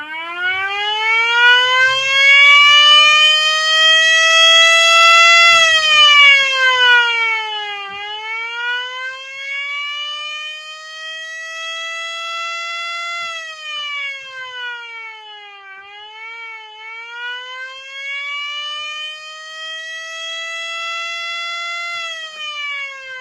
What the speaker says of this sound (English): We'll do one quick blast of the Model 5 here.